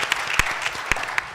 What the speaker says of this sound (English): Yes, you should clap.